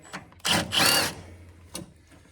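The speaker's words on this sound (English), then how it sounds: "So now all we got to do is take these Torx heads off." Power tool backing out Torx head screws on a Polaris Ranger 800 XP utility vehicle, two short close whirring bursts with a brief pause, then a faint third spin, no talk.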